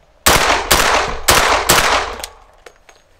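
Pistol-caliber carbine fired at a shooting range: four loud, sharp shots in a steady rhythm, each followed by a brief echoing decay, then fading range noise with a couple of faint distant pops.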